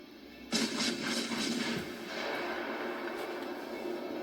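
Warship naval guns firing in the World of Warships Legends game: a sudden loud boom with a broad rumbling roar that sustains and slowly decays, accompanied by a faint low tonal hum.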